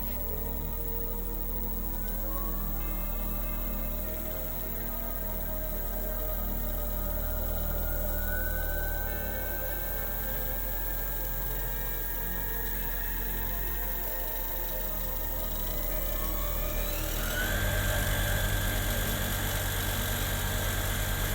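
A car alternator converted into an electric motor runs on a 55-volt DC supply and spins up, a steady electric whine with tones that climb in pitch as it gains speed, then a louder hum as it settles.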